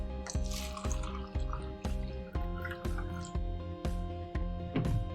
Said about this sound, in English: let's go ahead and get to pouring